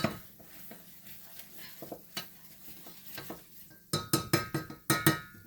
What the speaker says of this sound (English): I have to stir the glaze